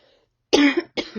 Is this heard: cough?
yes